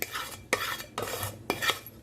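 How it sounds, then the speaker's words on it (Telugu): Roasted semolina is scooped from a pan into a bowl, giving four distinct metal scrapes and clinks at a steady rhythm, each followed by a short rustling pour, close and loud. "రవ్వ అండి ఒక గిన్నెలోకి వేసుకుంటున్నా."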